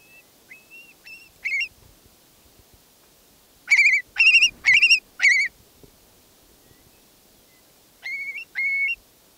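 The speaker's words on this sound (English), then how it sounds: "Listen to the call of this shorebird." A long-billed curlew, a prairie-nesting shorebird, gives clear whistled calls in short rising notes, with a loud burst of four in the middle and softer pairs before and after, set against a quiet background.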